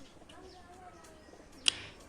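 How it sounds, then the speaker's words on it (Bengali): Silver racing pigeons coo and chirp faintly over a low background, with a sharp brief click near the end and a voice speaking at times. "এই যে আমার এই 4টা কবুতর আসছে, ওই থেকে ছাড়ছি"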